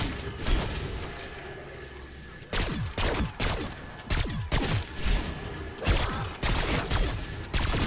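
Bursts of automatic fire from a GPMG-7 machine gun in Black Ops 6, loud repeated volleys crackling in quick succession with short gaps between them.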